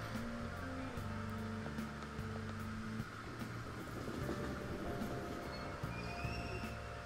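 A train pulls through a station in the video game Persona 5 Royal, its broad rumbling rush swelling in the middle and easing off beneath steady game music.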